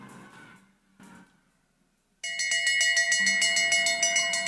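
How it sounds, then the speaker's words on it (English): A bell rings rapidly and repeatedly to signal the last lap of a junior short track speed skating race in Salt Lake City, loud bright strikes following brief crowd and arena noise. "That bell means the last lap for our skaters"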